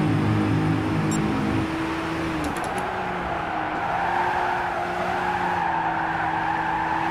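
A race car in Gran Turismo 6 brakes hard and skids, its engine tone dropping while tires squeal steadily and loudly over a constant roar, with no one talking.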